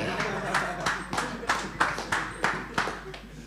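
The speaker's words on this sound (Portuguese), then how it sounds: "Mais aplausos, tem que aplausos fortes, família." Audience at a comedy club clapping in rhythmic unison, about ten sharp, evenly spaced claps, with voices faintly underneath.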